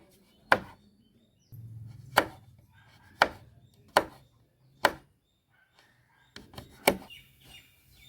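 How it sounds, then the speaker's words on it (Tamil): A knife chops pistachios finely on a board, sharp isolated knocks spaced about a second apart, close and fairly quiet, with faint bird chirps in the background. "இது பொடி பொடியாக நறுக்கி வச்சுக்கலாம்"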